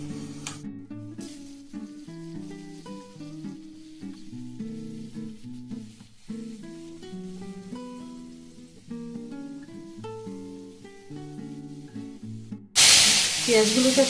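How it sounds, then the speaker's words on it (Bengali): Chopped onions hit hot oil near the end, a sudden loud, hissing sizzle that follows a long stretch of background music. "এইভাবে ঝুড়ি ঝুড়ি করে এই পেঁয়াজগুলোকে এখন দিয়ে দেবো তেলে"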